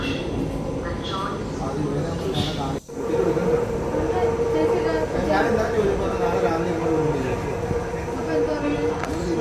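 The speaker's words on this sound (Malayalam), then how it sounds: "ആദ്യമായിട്ട് മെട്രോ ട്രെയിനിൽ കയറുന്നുണ്ട്" Steady rumble of a metro train in motion, with a continuous low drone and hum throughout, voices faintly mixed in.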